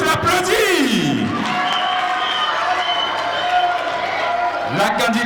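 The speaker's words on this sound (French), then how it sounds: "On peut tous l'applaudir." Audience applause for a contestant at a spelling competition, a steady wash of clapping and crowd noise throughout, with swooping background music tones underneath.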